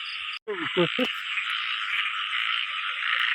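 Frogs croaking in a forest during the first rain, a dense continuous chorus of calls near and loud, with a few deeper separate croaks in the foreground early on.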